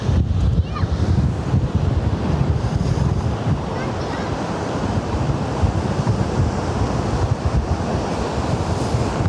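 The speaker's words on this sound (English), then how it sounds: "Hold on to a tripod in the wind." Steady, heavy wind buffeting a microphone outdoors at an airport, a continuous low roaring rumble with no pauses and no voices.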